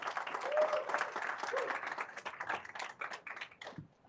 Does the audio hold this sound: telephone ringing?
no